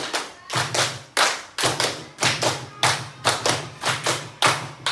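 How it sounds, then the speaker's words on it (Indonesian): A group claps together in a counted rhythmic pattern, bursts of unison hand claps separated by short pauses, close and loud, with quick repeated claps in each burst. "tepuk 3, tepuk 4, tepuk 5, tepuk 5 3 kali"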